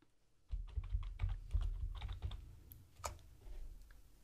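Computer keyboard keys tapped out in quick bursts while entering a command in an Ubuntu 22.04 terminal: about a dozen close, crisp clicks in an irregular rhythm, then a lone louder keystroke and a few softer ones, with no voice.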